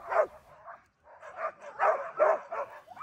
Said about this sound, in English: By now the dogs were pulling, barking, yelping, tugging and raring to go.